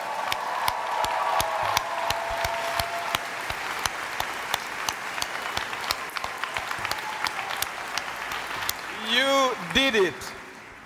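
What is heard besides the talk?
audience applause for graduating students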